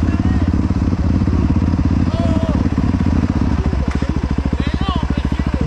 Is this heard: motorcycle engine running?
yes